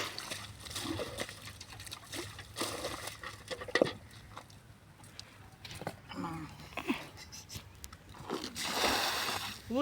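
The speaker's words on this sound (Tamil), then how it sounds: "ஊத்துற தண்ணி முழுக்க பண்டுக்கெலாம் வருது" Water pours and splashes into a salt-pan channel, with irregular trickles and splatters and a stronger gush near the end, at moderate distance. Faint voices can be heard in the background.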